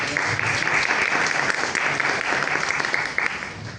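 Sustained applause from an audience at a talk on PCR and molecular testing, steady dense clapping throughout with no pauses, loud and fairly close.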